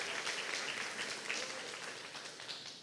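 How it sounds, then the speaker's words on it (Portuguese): A church congregation applauds during a service, a faint but dense patter of many hands clapping evenly throughout, gradually easing off. "Pode aplaudir ao Senhor?"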